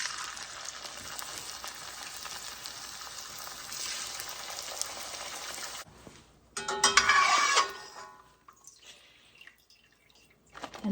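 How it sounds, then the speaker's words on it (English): Puffy tortilla chips frying in hot oil, a steady close sizzle that drops out briefly, then a louder crackling burst as chips are stirred before it fades to a faint simmer. "You just want to fry to the golden brown and they're puffed up."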